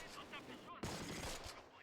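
Gunfire in the WWII tactics game Close Combat: The Longest Day, fighting at Carentan. A quiet rattle of rifle and machine-gun bursts overlaps, with a sharper volley partway through.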